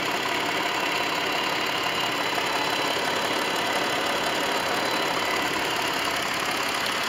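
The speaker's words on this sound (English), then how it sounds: "It's a very smooth, quiet engine for the size of it." A Chrysler Pacifica's V-shaped engine idles smoothly and quietly, a steady, even hum with broad hiss and no talk over it.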